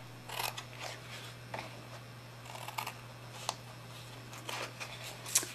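Scissors snip through cardboard while a card box is being made, giving a string of short, crisp cuts spaced irregularly over a steady low hum, close and fairly quiet.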